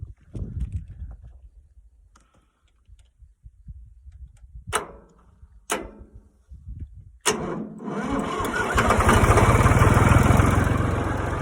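Starting an old Chinese Power King PK 500 tractor: quiet clunks and rattles, a few sharp clicks, then the engine catches and settles into a loud, steady idling rumble for the last few seconds.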